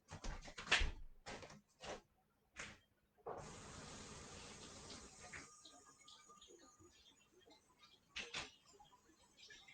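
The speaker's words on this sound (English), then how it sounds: "I'm going to go rinse it." Tap water running to rinse celery in a home kitchen while cooking clam chowder, a steady hissing flow of several seconds after a few clunks and bumps, with faint talk nearby.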